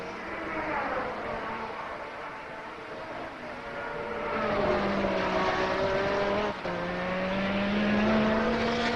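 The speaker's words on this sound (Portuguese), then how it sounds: "Aí vai a McLaren." Prost's McLaren Formula 1 car at the 1984 South African Grand Prix screams past, its engine whine rising and bending in pitch as it nears and goes by, with a continuous roar and faint commentary underneath.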